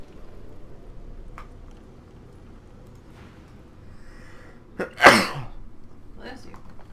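A single sharp human sneeze breaks in loud and close partway through, while quiet room tone and the faint background sound of the role-playing video game Divinity: Original Sin II continue around it.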